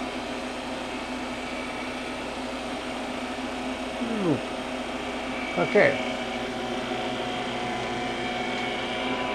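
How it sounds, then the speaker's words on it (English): A freeze dryer's vacuum pump runs steadily through its main 30-hour drying cycle, giving a constant mechanical hum; a brief voice and a couple of short knocks or clicks sit over it midway. "the vacuum pump is going and starting the dry time, the main dry cycle of 30 hours"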